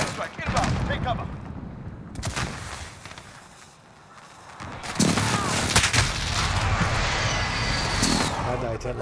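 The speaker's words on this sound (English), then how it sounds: "Airstrike. Inbound. Take cover." Gunfire and an airstrike in a multiplayer shooter game, with dense bursts of shots and heavy blasts that build to a loud, sustained rumble of explosions and firing as players talk over it.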